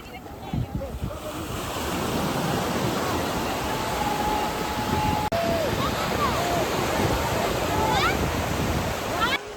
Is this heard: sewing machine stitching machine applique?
no